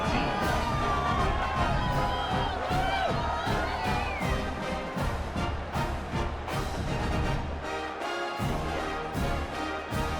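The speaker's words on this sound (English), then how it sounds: "that last score took a little oomph out of this crowd" Stadium crowd in the video game EA College Football 26, UCLA at Ohio State, keeps up a loud, steady roar of cheering and whooping throughout.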